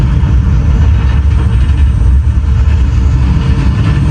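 Deep, loud, continuous rocket-launch rumble on the Epcot Mission: Space ride, a steady low roar filling the whole stretch without pause.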